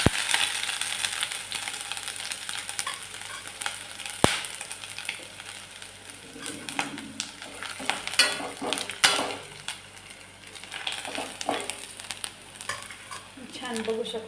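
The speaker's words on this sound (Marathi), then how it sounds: "ठेचून घेतलेला लसूण आणि आलं पण टाकलं. आता छान परतून घेऊया." Crushed garlic and ginger sauté in a pan for Marathi kadhi. A continuous crackling sizzle sits under repeated scraping and stirring strokes that come in irregular bursts, with an occasional sharp metallic tap.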